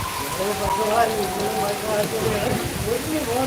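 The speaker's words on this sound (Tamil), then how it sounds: "நல்ல மழை ப்ரோ" Steady rain pattering hard on surfaces, a constant wash of noise with faint voices underneath.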